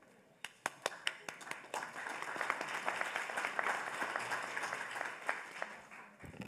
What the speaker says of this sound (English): You just show up and get applause.